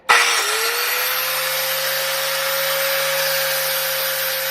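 A wooden nobekan root being shaped with 120 grit sandpaper, heard as a steady, loud, continuous whirring rasp lasting the whole stretch with no pauses and no voices.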